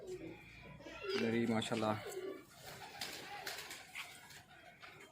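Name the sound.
cooing Kalnoke breed pigeons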